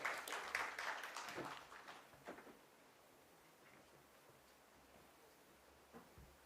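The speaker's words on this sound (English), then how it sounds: "Can we please have a big round of applause for him?" Applause from the gathering at a company stock listing ceremony, a short burst of clapping that fades within about two seconds, then a few scattered faint claps and quiet room noise.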